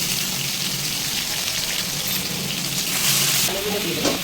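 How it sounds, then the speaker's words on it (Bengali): Ginger garlic paste hits hot fried-onion oil in a biryani pot, giving a loud continuous sizzle and hiss that swells near the end. "এবার এই বেরেস্তার তেলে আমি 2 টেবিল চামচ আদা রসুন পেস্ট দিয়ে দিচ্ছি।"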